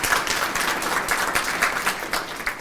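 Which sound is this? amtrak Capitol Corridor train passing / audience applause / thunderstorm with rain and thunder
audience applause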